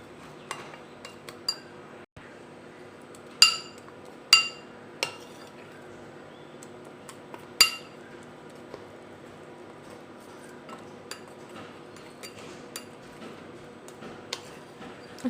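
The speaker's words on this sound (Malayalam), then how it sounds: "നന്നായി മിക്സ് ചെയ്ത് കട്ടകളെല്ലാം മാറുന്ന വരെ മിക്സ് ചെയ്തുകൊണ്ടിരിക്കുക" Microwave chocolate cupcake batter being stirred in a cup, with a utensil clinking and tapping against the sides in scattered, sharp ticks, a few louder knocks standing out against quiet background.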